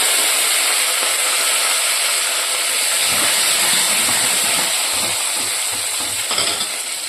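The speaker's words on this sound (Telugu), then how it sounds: "ఉల్లిపాయలు కూడా వేస్తున్నానండి తాలింపులో. కరివేపాకు కూడా ఒకసారి వేస్తున్నాను." Onions and curry leaves sizzling in hot tempering oil for a lentil tamarind stew, a loud steady hiss close by with occasional stirring clatter and no voices.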